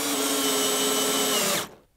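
A power drill drives a bronze straight slot screw into boat planking, a steady close whir that holds for about a second and a half and then stops abruptly.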